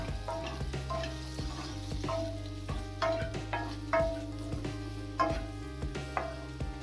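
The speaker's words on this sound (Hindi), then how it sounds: "अब इन्हें वापस बिल्कुल लो फ्लेम पर एक मिनट चला लेते हैं" Bitter gourd stir-fried in a pan over a low flame. A spatula scrapes and clinks in an uneven rhythm over a soft, steady sizzle and a low hum, close and moderately loud.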